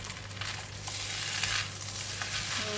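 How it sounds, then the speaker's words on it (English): Chinese sausage fried rice with spring onions is stirred and tossed in a hot pan, giving a continuous close sizzle overlaid with scraping, shuffling strokes over a low steady hum. "And spring onions. Then can give it a stir."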